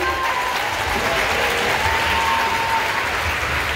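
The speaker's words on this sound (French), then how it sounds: "On l'applaudit" A crowd applauds during a Gauls-versus-Romans show at Parc Astérix, a steady, loud wash of clapping hands filling the whole stretch with no pauses.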